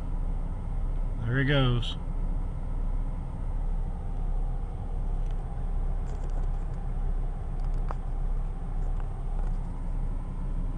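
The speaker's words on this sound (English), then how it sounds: "here's a truck just trying to turn left" A truck trying to turn left at an intersection on a main road, heard as a steady broad engine and traffic rumble with a brief horn-like tone early on and a short spoken remark.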